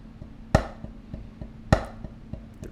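Two loud, sharp drum accents about a second apart, played on the "e" of sixteenth notes by the left hand on a drum kit, stand out over a steady, quiet pattern of soft taps in between.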